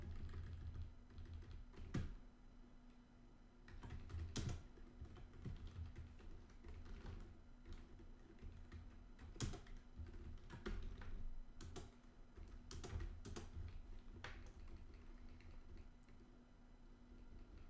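Typing on a computer keyboard during an Arch Linux installation, soft scattered keystrokes with a few sharper clacks at irregular intervals, quiet and close over a low steady hum, with no voices.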